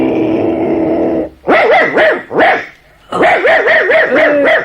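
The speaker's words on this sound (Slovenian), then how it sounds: "Majhen skuštran psiček je, privezan je k pasji uti." A small, scruffy dog chained to a doghouse barks and growls loudly and close by, with a long growl, two sharp bursts, then a rapid string of yapping barks, no talk over it.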